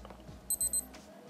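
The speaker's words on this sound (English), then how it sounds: "the arrow hand over here will go to LT. LT will stand for altimeter, and it's gonna beep 3 times." Casio G-Shock Gulfmaster quad-sensor watch (5477 module) giving three short, high electronic beeps in quick, even succession as it switches to altimeter mode, close and clear over a quiet room.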